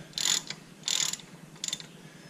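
A ratchet wrench works loose the outer locking nut on a Ford F150 4x4 wheel hub during a wheel bearing replacement, giving three close bursts of rapid metallic clicking separated by short pauses.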